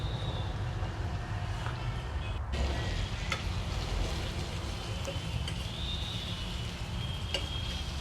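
Turmeric, spice mix, cumin, coriander, chilli and salt fry in a pan with a continuous close sizzle, broken by a few soft stirring scrapes and clinks.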